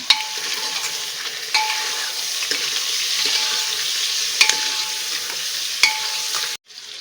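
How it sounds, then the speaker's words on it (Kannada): Mutton pieces frying over a flame in hot oil for a mutton curry, a steady loud sizzle with a few sharp ladle clinks against the pan, cutting off abruptly near the end. "ಫ್ಲೇಮಲ್ಲಿ ಇಟ್ಟು ಚೆನ್ನಾಗಿ ಮಟನ್ ಫ್ರೈ ಮಾಡ್ಕೊಳ್ಳೋಣ"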